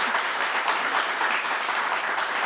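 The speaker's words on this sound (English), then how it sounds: "Let's give her a round Thank of you. applause." A studio audience applauds for a singer at a live radio performance, a steady, dense wash of clapping that holds evenly throughout without any voices.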